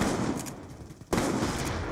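Rapid gunfire in Call of Duty Black Ops 2 aimed at basketballs, a sustained burst of automatic shots that breaks off briefly and then resumes just as loud.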